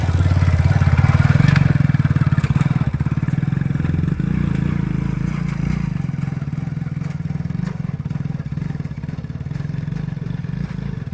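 A motorcycle labors up a rough, steep mountain road in a Kashmir village, its engine droning loudly and steadily throughout with rattling clatter and scraping from the rocky track, no one speaking.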